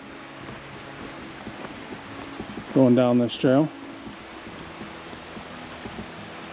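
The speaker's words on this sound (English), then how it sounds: "So we'll probably hear a lot of the river" The clear, fairly fast-moving Ohanapecosh River rushes steadily beside a hiking trail at Grove of the Patriarchs in Mt Rainier National Park, a constant hiss of water with a brief spoken phrase midway.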